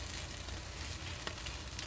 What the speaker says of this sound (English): Now just cook the other side for about the same time to get that same finish and melt the cheese in the middle.